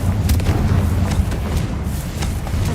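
A Confringo blasting spell exploding in the video game Hogwarts Legacy, heard as several sharp booming bursts over a dense, continuous roar of game noise.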